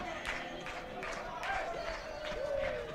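At an outdoor ultimate frisbee match, Austin Sol against Tampa Bay Cannons, a small crowd of home fans keeps up a continuous swell of shouting and cheering, with bursts of louder yells rising over the general noise.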